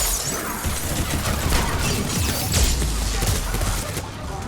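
Dense, continuous gunfire and shattering impacts rain down in a Mass Effect 3 firefight, loud and sustained with crackling bursts throughout and no clear pauses.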